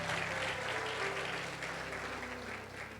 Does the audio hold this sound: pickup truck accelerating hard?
no